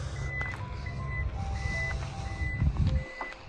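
The power tailgate of a Toyota Corolla Cross 1.8 hybrid closes to a run of high electronic warning beeps in a steady pattern, with a low motor hum and a dull thud as the tailgate shuts near the end.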